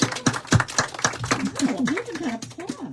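A small audience gathered in a bookstore for an author event claps in a brief patter of sharp, close claps that thins out as a voice begins speaking.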